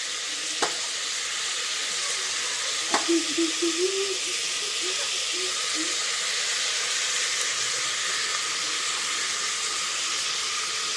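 Tomatoes frying in a pan for biryani hiss with a steady, close sizzle, broken by a couple of sharp spoon clacks and a brief burst of bubbling as they are stirred.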